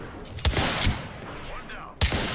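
Gunfire in the battle royale game Apex Legends, with several sharp, loud shots in quick bursts at close range, separated by brief gaps and a noisy in-game background.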